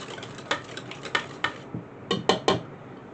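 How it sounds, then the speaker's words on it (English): A spoon clacks against a bowl while lemon cookie dough is stirred, giving sharp, irregular ticks and knocks up close with no voices. "get this stirred up real good"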